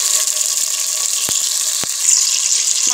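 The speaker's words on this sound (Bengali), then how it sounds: "তেল গরম হয়ে গেছে, এখন এর ভিতরে আমি মাছগুলো দিয়ে দিচ্ছি ভাজার জন্য" Snakehead murrel fish pieces going into hot oil in a pan, giving a steady hiss and sizzle throughout with a couple of sharp pops, fairly loud and close, and no talking.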